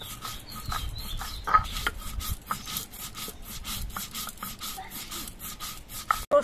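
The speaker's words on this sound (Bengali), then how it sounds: "সর্ষেটা বাটার সময় 2টো কাঁচা লঙ্কা দিচ্ছি, আর অল্প করে একটুখানি নুন দিয়ে দিচ্ছি। এবার সর্ষেটা বেটে নিচ্ছি।" Mustard seeds are ground with green chillies and salt, giving a steady rhythmic rasping and rubbing of repeated strokes, fairly quiet and close, with no talking.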